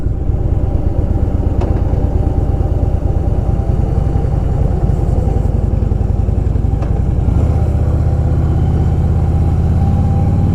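A Harley-Davidson Softail Deluxe cruising along a city boulevard, its engine a loud, steady, throbbing rumble that rises slightly in pitch near the end, close and continuous with no speech.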